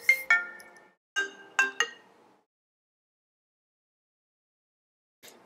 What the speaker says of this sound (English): And my phone's ringing.